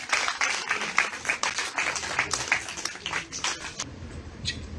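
Audience applause at an art awards ceremony, a dense, steady clapping that goes on for several seconds and then thins out toward the end.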